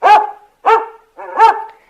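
A dog barks three times in quick succession, loud and close, with short gaps of silence between the barks. It plays as a sound effect in an audiobook.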